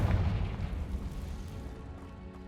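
A Confringo spell explosion in Hogwarts Legacy lands as a loud, deep boom that rolls off into a rumbling decay over a couple of seconds.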